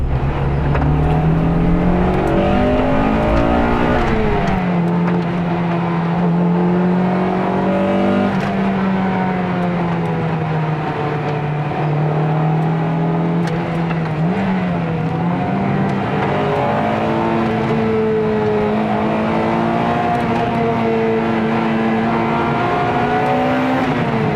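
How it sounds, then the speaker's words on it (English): The high-revving engine of a 1997 Honda Integra Type R (DC2) drones loudly and close, its pitch climbing and dropping through several gear changes as it revs and accelerates continuously. "it's a high revving engine"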